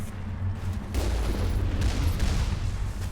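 Gunfire and heavy impacts in the Mass Effect video game, a dense burst of loud low booms and crackling shots running continuously through the short stretch, with no talk.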